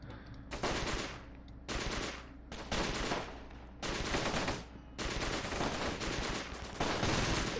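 Defending infantry open fire in a Close Combat World War II strategy game, with loud bursts of machine-gun and rifle fire in repeated volleys separated by short gaps, dense and continuous throughout.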